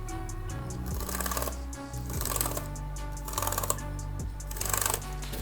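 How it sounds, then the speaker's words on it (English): Keys on an Apple MacBook Pro keyboard are pressed in quick clusters at an e-waste recycling center. The close, clicky taps come in bursts over a steady electronic hum, with no voices. "Let me make sure the keys are fine."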